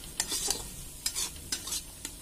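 Masala for a dry brinjal dish being stirred and fried in a pan, with scraping strokes of the spoon at irregular intervals over a low, steady sizzle.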